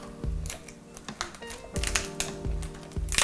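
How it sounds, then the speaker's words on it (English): Kitchen shears snipping down a cooked lobster shell, giving irregular crisp clicks and crunches up close with short pauses between cuts, and no talking. "I just use kitchen shears and cut down the back, and I grip it and cut down the front"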